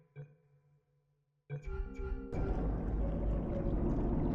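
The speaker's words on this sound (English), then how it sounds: "It's a bubbling and a tumbling." Water bubbling and tumbling in the video game Portal 2: a brief faint splash, a pause, then a swelling rush of churning, gurgling water that grows louder and continues steadily, with no talking.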